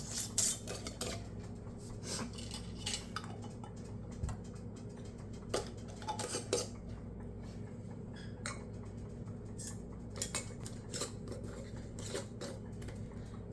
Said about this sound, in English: Now we're gonna get our lids